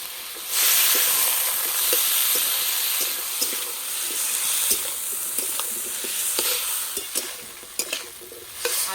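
Boiled bottle gourd greens dropped onto fried potatoes in a hot pan, a sudden loud hiss of steam settling into a steady close sizzle with scattered clicks of stirring.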